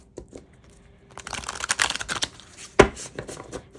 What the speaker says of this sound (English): I have to shuffle them sideways because they're kind of tall.